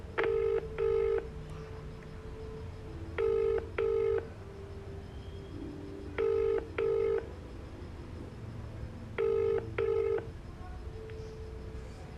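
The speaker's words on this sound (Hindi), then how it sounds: "आप इससे फ़ोन मिलाओ और मेरी बात करवाओ।" A mobile phone dials a number with steady DTMF keypad tones, sounding in four evenly spaced pairs of short beeps over a quiet background hum.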